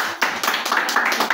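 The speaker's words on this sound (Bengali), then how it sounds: "আমরা কি ওনার জন্য একটা" An audience claps for the founder at a gathering, a dense, continuous patter of many hands with uneven bursts throughout.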